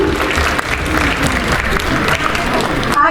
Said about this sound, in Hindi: तालियां बजें जरा।